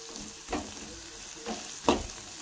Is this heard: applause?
no